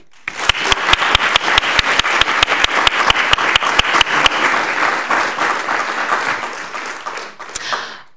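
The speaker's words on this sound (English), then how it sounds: "So a round of applause for Margaret." Audience applause at a Hamilton-Wentworth District School Board meeting, beginning with loud, sharp, evenly spaced claps near the mic and swelling into a dense roomful of clapping that fades out after several seconds.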